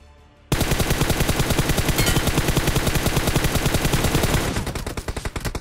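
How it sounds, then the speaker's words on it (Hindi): Automatic gunfire from a mobile battle royale game bursts in after a brief quiet start, then a loud, rapid stream of shots runs nearly unbroken before it slows into spaced single cracks. "लेकिन भाई साइड से आती है फायरिंग"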